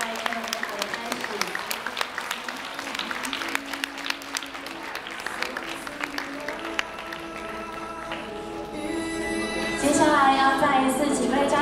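Guests at a wedding reception clap for the attendants leading the bride and groom's entrance, a steady patter of applause under an announcer's voice, with music swelling toward the end.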